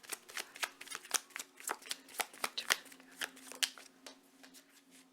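Tarot cards shuffled by hand during a Halloween pick-a-card reading, a quick series of crisp riffling snaps and flicks at close range, with a faint steady hum underneath.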